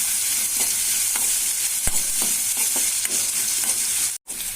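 Onion, green chillies and ginger frying in a pan for dal, a steady loud sizzle with occasional spoon-stirring scrapes and a brief drop-out near the end.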